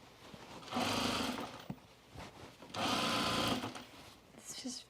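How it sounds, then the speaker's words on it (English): A sewing machine stitches through corduroy trousers in two steady, whirring bursts, each about a second long, close and clear, with brief quiet pauses and small handling sounds between the runs. "I'm going to do a longer stitch length because of the corduroy. It's like sewing through pudding"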